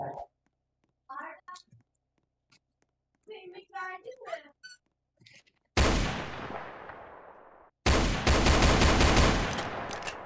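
Gunfire in the Roblox Brookhaven video game comes after a stretch of talking: two loud bursts, the second a longer rapid volley, ringing out close and harsh.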